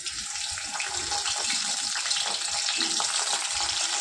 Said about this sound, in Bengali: এবার আমি একে একে বেগুনটাকে ভেজে নেব।